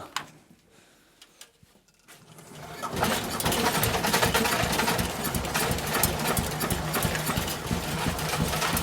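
An engine is started on a frosty day at minus three to minus four degrees. Quiet clunks and cranking come first, then it catches and settles into a loud, steady running rumble that continues to the end.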